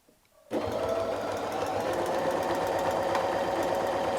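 A quilting sewing machine stitches dahlia petals guided by a ruler, starting abruptly after a quiet moment and then running in a steady, loud, fast mechanical hum with a rapid needle rhythm close by.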